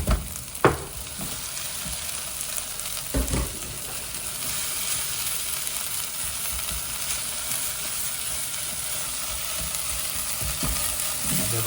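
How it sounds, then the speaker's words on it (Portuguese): Garlic fries with onion and bacon in a pan, giving a continuous, even sizzle with a few sharp utensil knocks and stirring scrapes early on. "Agora eu vou pegar o restante, o alho, para continuar dourando aqui com a cebola e o bacon."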